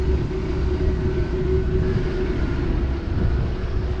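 A 5.3L V8 engine at a rough, fluctuating cold idle, a steady close low rumble with a constant droning tone, heard alone without any talk.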